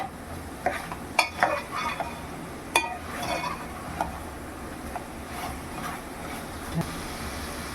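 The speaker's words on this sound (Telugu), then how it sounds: "బాగా కలుపుకోవాలి" Mango chicken curry being stirred in a pan after chili powder goes in, a low continuous sizzle with several sharp clinks and scrapes of the spoon against the pot, near and fairly loud.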